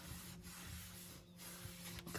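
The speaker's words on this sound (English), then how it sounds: "that sounds like he's got the sander out" An electric sander works over a glossed door, heard faintly from a distance as a steady, low rubbing whir with brief dips, and no voices.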